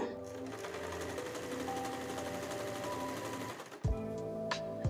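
A sewing machine hums along continuously and close by, zigzag stitching the border of a saree, then pauses briefly and starts again near the end.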